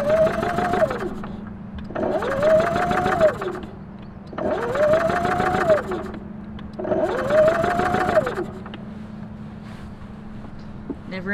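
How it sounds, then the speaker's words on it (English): A troublesome off-grid generator at a mountain homestead, cycling through four loud, repeated surges of engine noise with a rising and falling whine, each lasting about two seconds, over a steady low hum. "Never ending generator problems."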